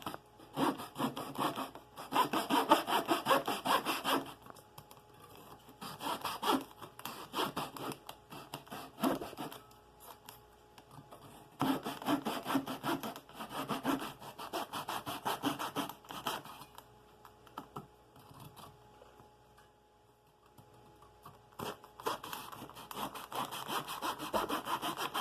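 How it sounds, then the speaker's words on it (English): A hand saw cuts across a wooden propeller in repeated rhythmic back-and-forth strokes, close but fairly quiet, with brief pauses between bursts and no talk. "I'm going to cut right across here to join these two cuts, join the cut top to bottom"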